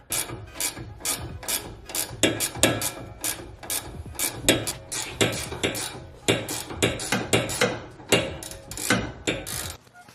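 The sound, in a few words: 17mm wrench and Allen key loosening sway bar end link nut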